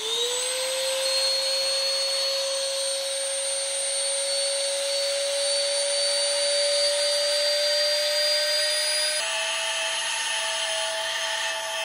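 A small electric vacuum pump draws air from a queen-size storage bag, giving a steady whine that climbs gradually in pitch as the bag compresses, then steps slightly higher near the end; continuous and close, with no talk.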